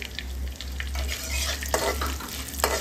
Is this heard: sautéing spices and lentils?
yes